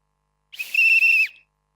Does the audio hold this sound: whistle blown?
yes